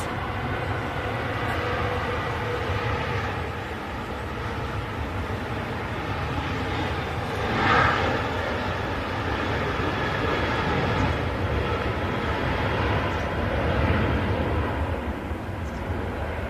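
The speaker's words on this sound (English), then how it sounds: "Nice slow rotation there from the Ryanair once again" A Ryanair jet rotates on takeoff at Manchester Airport, a broad, sustained engine roar that swells slightly midway and holds steady at a distance.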